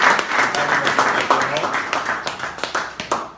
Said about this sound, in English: let's give a big round of applause to the All Britons